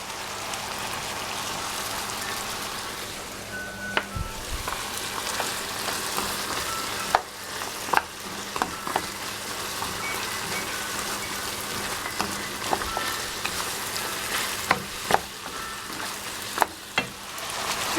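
Carrots sizzling and frying steadily in a pan as celery goes in, a continuous crackle with a few sharp clicks and stirring knocks throughout, no talking.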